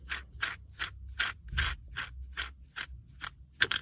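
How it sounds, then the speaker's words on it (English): An H4 LED headlight bulb part unscrews with a run of about ten evenly spaced ratcheting clicks, close and crisp, each a short dry tick with a slightly louder final snap. "And then this should unscrew."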